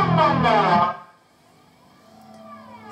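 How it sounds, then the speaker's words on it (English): A distorted electric guitar chord runs through a 1983 Boss BF-2 flanger pedal with resonance at halfway. It rings with a metallic, whooshing sweep for about a second, then drops to a faint, hollow, ringing tail. "Halfway up, and it's going to get this really metallic sort of sound soon."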